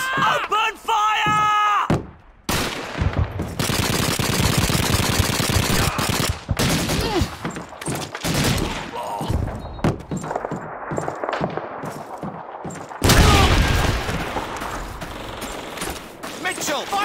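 Dense World War II gunfire from Call of Duty 2, with loud bursts and rattling fusillades running almost nonstop, broken by brief gaps and a heavy blast near the end, mixed with shouted voices.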